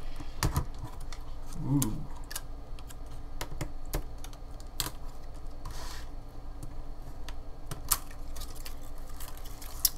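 Keyboard being pried out of a ThinkPad Twist laptop during disassembly: scattered sharp plastic clicks and light rattles over a low background hum, with a brief soft exclamation from a person.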